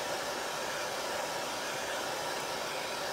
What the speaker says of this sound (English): So I'm just going to use my hair dryer to dry this up a little bit.